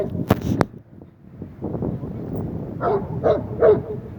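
A dog gives a couple of sharp barks near the start, followed by whines and yips over rough background noise, close and moderately loud.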